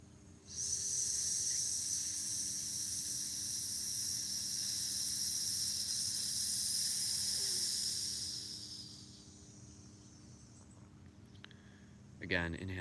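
A long, steady hissing exhale held for several seconds, a voice imitating a serpent's hiss, then fading out before a short rustle.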